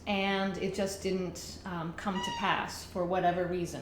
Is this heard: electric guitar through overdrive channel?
no